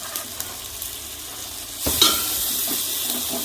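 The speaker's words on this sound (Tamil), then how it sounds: "தக்காளி, வெங்காயம், கருவேப்பிலை, பூண்டு இதெல்லாம் நல்லா வணங்கினதுக்கப்புறம் நம்ம கூட்டி வச்சுருந்த குழம்ப அதில் ஊற்றிடலாம்." Crab curry gravy pours into a pan of sautéed tomato, onion, curry leaves and garlic, setting off a sudden loud sizzle partway through after quieter stirring and frying sounds.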